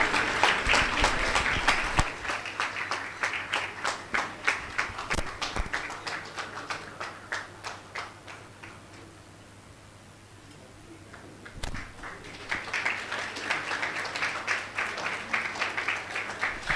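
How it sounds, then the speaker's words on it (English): Audience applause at a college convocation ceremony after an award presentation: loud, dense clapping fades into a near-quiet lull, then swells again into a full round of clapping. "We should hear a loud applause for this."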